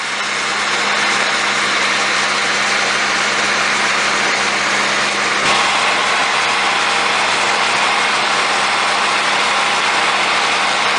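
A small pump engine runs steadily beside a wastewater treatment plant lake where an 8 ft AquaDam is being filled, a constant broadband mechanical drone holding even throughout with no voices.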